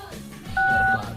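A telephone number is dialed by keypad in a home in Baghdad, giving one steady two-tone DTMF beep lasting about half a second over a faint background murmur.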